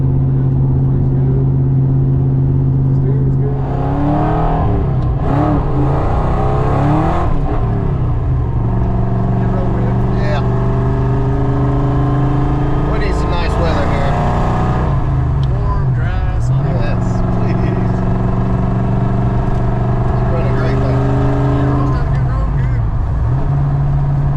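A 1993 Ford Mustang GT Fox Body with a freshly swapped driveshaft drives along, its engine droning steadily from inside the cabin with rising and falling revs throughout.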